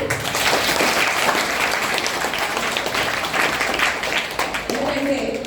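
A school crowd of students and staff claps loudly and continuously at a school event, a dense sustained round of applause that fades slightly before a voice speaks near the end.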